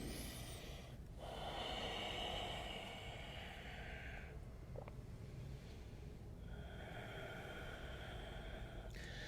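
Slow breathing during a held yoga forward fold in a power yoga class, close and soft, with long airy inhales and exhales separated by brief pauses and one short sniff.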